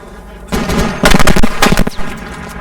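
Gunfire in the video game ARMA 3: a short, loud cluster of sharp shots and cracks packed into about a second, over a steady background rumble.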